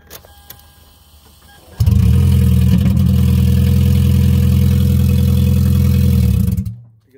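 A Toyota Prius with its catalytic converter stolen starts up after a few faint clicks, then gives a loud, harsh, blatty exhaust drone held steady for several seconds before it cuts off abruptly.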